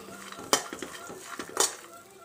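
Grated coconut dry-roasted in a pan without ghee, stirred with a metal spatula that gives two sharp clanks against the pan between softer scraping and light rustling, close and fairly quiet.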